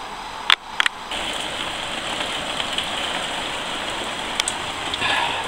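Heavy rain pours down on a shed in a steady hiss of drumming drops, with a few sharp knocks near the start and no speech.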